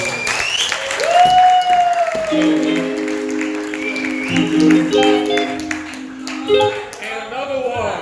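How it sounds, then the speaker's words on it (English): An audience bursts into loud, sustained applause for a guest speaker at a live presentation, with sustained tones and a voice carrying over the clapping. "One more round of applause for Dr. Erik, please."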